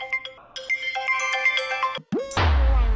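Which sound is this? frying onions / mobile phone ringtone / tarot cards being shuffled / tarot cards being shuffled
mobile phone ringtone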